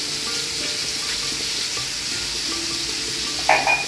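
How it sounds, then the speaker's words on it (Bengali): Kalonji (black cumin) seeds sizzle in hot oil beside already-fried prawns, a steady close frying hiss with a sharper burst of crackle near the end. "আমি একটু কালি জিরা দেবো।"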